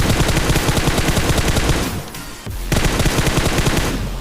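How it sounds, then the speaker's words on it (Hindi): Bursts of automatic gunfire from behind in a mobile battle royale shooter, fast rhythmic shots loud and close, with a brief lull in the middle before the firing starts again. "मैं यहाँ पे जा ही रहा था कि पीछे से शॉट्स आते हैं इस कारल का"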